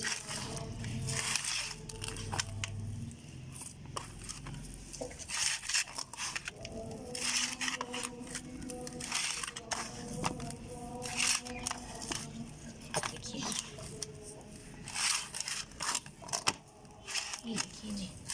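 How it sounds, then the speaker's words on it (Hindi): Wheat flour dough (atta) is kneaded by hand as water is added bit by bit, giving repeated soft squishing, pressing and crackling sounds up close, with a voice talking intermittently over it. "आपने अपने ज़ोर से इसको दबा दबा के गूंदना है"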